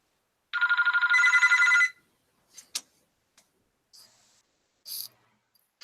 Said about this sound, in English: that was just my phone